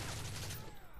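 Burst of rapid gunfire in a first-person shooter game, Team Deathmatch on the Arkaden map, a dense rattling volley lasting about half a second then cutting off, fairly faint.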